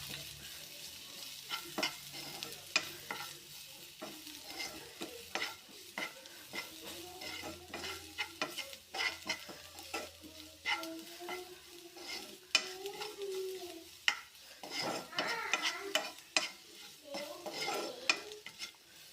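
Turmeric and chili powder fry in a pan while a spoon stirs them, giving a soft sizzle broken by frequent scraping clicks and taps against the metal, close and fairly quiet, with no voices.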